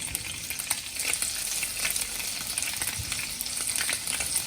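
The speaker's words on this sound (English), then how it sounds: "Let's pan fry the tofu with about a tablespoon of cooking oil." Tofu pan-frying in about a tablespoon of cooking oil gives a steady, close sizzle with continuous crackle and faint scattered pops throughout, and no one speaking.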